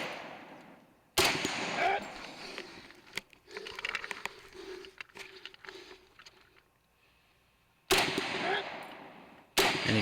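M1 rifle shots at an outdoor two-gun shooting match, a few loud sharp blasts spaced seconds apart with rustling and handling noise between them.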